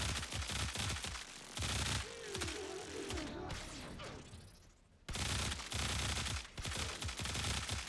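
Flux Rifle beam fire in the shooter Warframe comes as a rapid rattle of shots in bursts, broken by a brief quieter stretch with tonal whines before loud firing resumes.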